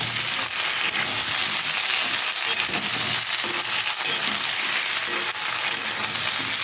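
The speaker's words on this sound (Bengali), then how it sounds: "এক চামচ আদা পেস্ট আদা পেস্ট দিয়ে দিলাম দিয়ে আমি এখন ভালো করে আবার কষাবো" Ginger paste and chopped tomato fry in a pan for a Bengali fish curry with potato and pointed gourd, giving a loud, steady sizzle with occasional stirring clinks and scrapes, and no talking.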